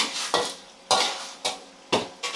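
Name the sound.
stir-frying water spinach with oil in a pan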